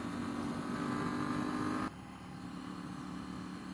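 A stock 2019 KTM Duke 790 motorcycle rides along an empty Route 17 in New Jersey. Its engine drones faint and steady, then drops abruptly to a quieter level partway through.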